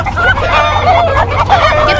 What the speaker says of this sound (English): Look at all these chickens.